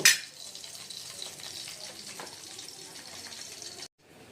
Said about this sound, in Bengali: আর বাকি মাছগুলো আমরা সেমভাবে ভেজে নিব।